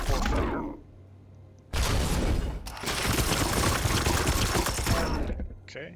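Support gunfire in Warhammer 40,000: Chaos Gate: a brief burst, a quiet pause, then a long loud rattling barrage of rapid shots that fades out near the end.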